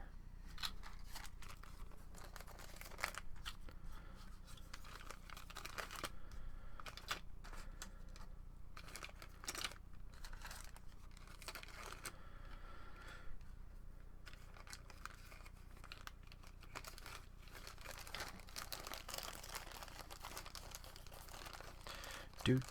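Plastic bags crinkle and rustle as small model kit parts for a 1/60 ZZ Gundam are bagged up, with a long stretch of crackling handling noise over a faint background. A voice speaks quietly at times.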